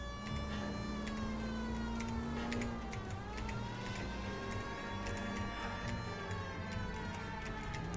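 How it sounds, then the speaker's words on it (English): In LA Noire, a police car's siren wails with steady tones over a rumbling engine while the car drives through city streets. The sound is faint and continuous throughout. "We're gonna put our siren on, because otherwise I'm gonna hit a bunch of people."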